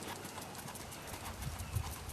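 Hooves of a ridden horse clip-clop steadily on a circle during a riding lesson in Auburn, California, a soft repeated beat close by with faint background noise.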